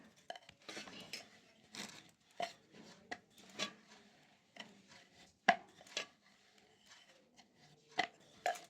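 Stuffed aloo paratha dough rolled out with a little flour: quiet, irregular knocks and thumps of the rolling pin on the board, spaced apart with soft rubbing in between.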